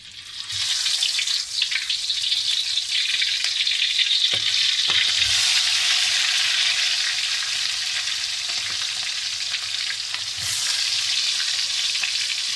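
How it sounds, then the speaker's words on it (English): Lobster shallow-fries in hot oil for a Kerala-style masala, giving a loud, continuous, close hiss and sizzle with a few faint clicks and no talking. "we are actually going to shallow fry the lobster first"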